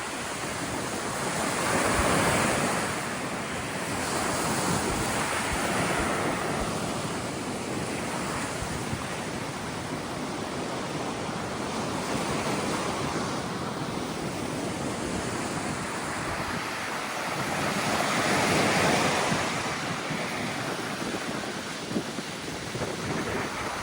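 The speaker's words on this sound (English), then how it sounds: "It was really windy." Strong wind roars across the microphone beside the water while waves surge and wash in the background, a dense, continuous rumble that swells and eases at intervals, with no voices.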